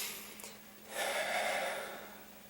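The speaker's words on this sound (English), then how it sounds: "And that's the breathing now." Heavy breathing after exercise, one long audible breath, faint and close, with no other sound around it.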